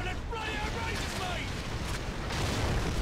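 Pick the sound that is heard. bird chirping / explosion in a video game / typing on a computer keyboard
explosion in a video game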